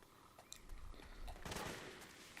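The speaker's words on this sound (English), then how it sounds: "he's shooting at the guy down here" Distant gunfire in Metal Gear Solid 4, with scattered faint shots and a louder rattling burst in the middle, all fairly quiet.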